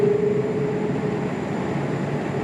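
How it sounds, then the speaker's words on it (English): Inside the cabin of an old Afghan Airbus A310 airliner taxiing toward the runway, a steady, loud engine rumble and hum carries on evenly throughout, with no voices. "We're taxiing for the runway."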